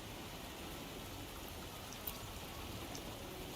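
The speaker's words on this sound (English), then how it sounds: "the rain won't last much" Steady rainfall in the video game Wuthering Waves patters softly and evenly, a faint continuous hiss with a few slightly louder drops.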